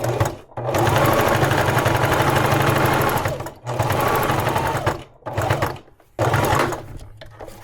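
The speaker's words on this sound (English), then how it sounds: "gonna stitch it to the back. That's all I'm gonna stitch down." Sewing machine stitching fabric in loud, fast mechanical bursts close by, pausing briefly between runs of stitching, with no voices.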